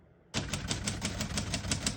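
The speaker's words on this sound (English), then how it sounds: "all the keys type nice and none of them skip or stick" A 1955 Royal Quiet De Luxe portable typewriter clatters into life after a brief silence, its keys striking in a quick, steady run of crisp, close mechanical taps.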